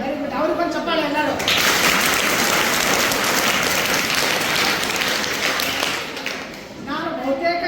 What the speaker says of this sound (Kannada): ಅವ್ರಿಗೆ ಬಂದು ಚಪ್ಪಾಳೆ ಎಲ್ಲರೂ